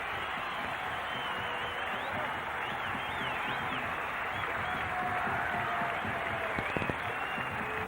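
About 15,000 cricket spectators at a World Cup one-day match in Kandy, Sri Lanka v Kenya 1996, applaud a batsman's fifty with steady, dense crowd clapping and cheering throughout, a distant broadband roar with no talk over it.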